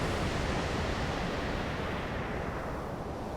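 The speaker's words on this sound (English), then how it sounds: "let me get away from this waterfall." A waterfall roars loudly and continuously, a dense, steady rush of falling water that fills everything with broadband hiss.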